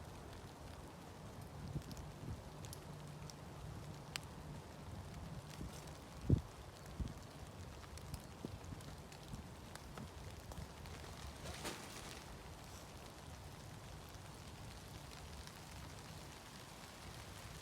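Steady light rain patters on a 3x3 waterproof tarp pitched on a three-stick pole setup outdoors, a soft continuous hiss with a few louder drops and faint wind, no talking.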